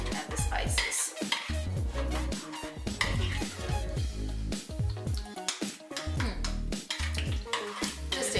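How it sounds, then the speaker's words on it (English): Spoon stirring and scraping through thick Greek yogurt and spices in a bowl, with steady clinking and scraping at close range alongside some background music, no talk. "I want to just make a good mix of the yogurt and the spices."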